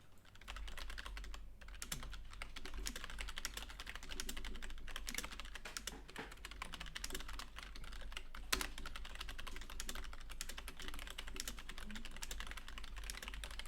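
Someone types quickly on a computer keyboard, with a continuous, fairly faint clatter of keystrokes and an occasional sharper key hit. No voices are heard.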